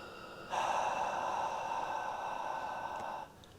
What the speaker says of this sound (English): we're going to take a big exhale out through the mouth as if you're fogging up a window, or a big open mouth sigh